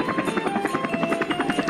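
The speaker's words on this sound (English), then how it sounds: "Then the two green engines saw a helicopter flying over the station." A helicopter flies over a station, its steady rotor chop pulsing rapidly and loudly throughout the short stretch, with no voices over it.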